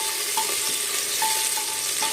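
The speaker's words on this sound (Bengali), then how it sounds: "এরপরে আলুটাকে ভেজে নেব।" Potatoes for a chana dal dish fry in a pan with a steady, close, broadband sizzle that holds for about two seconds, with a few faint tonal clinks and no talking.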